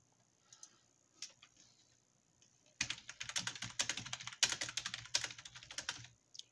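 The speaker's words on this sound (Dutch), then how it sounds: "Hij is op Discord aan het typen." Typing on a computer keyboard, sparse isolated key taps at first, then a fast dense burst of clicking keystrokes close by over a faint steady hum.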